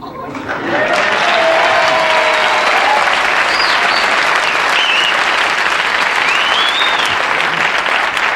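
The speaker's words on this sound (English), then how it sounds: "they're applauding because they love you" A Carson Tonight Show studio audience breaks into loud, continuous applause for Dean Martin, building quickly and holding a thick, even roar of clapping for the rest of the clip, with a few whoops rising above it.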